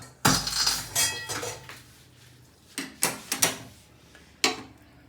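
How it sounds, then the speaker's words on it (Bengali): A metal wok set back down on a home kitchen stove, with a loud clanking impact followed by several sharper metallic knocks and clinks of pan and utensils, close by with no talking. "কড়াই আবার চাপিয়ে দিলাম।"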